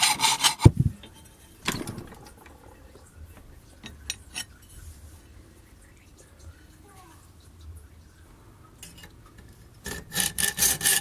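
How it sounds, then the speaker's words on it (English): Short bursts of rough scraping file strokes on a rough, chain-drilled metal edge come at the start and end, with quieter scratchy handling noises in between. "Use a file to neaten up the rough edge from the chain drilling."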